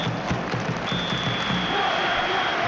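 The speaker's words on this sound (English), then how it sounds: "The crowd are reacting to that now." A stadium crowd in a football video game keeps up a steady roar during a Europa League final between Manchester United and Inter Milan, a continuous wash of noise with faint commentary underneath.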